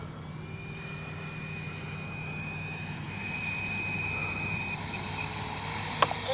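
A Freewing 80mm MiG-21 RC jet on its maiden flight gives a steady whining turbine-like drone with high tonal lines, slowly growing louder and closer, with a sharp click near the end.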